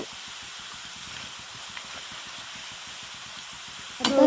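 Salt water spooned into hot oil where raw banana chips are frying gives a steady, close hiss and crackle, with a sharper, louder burst of sizzling near the end.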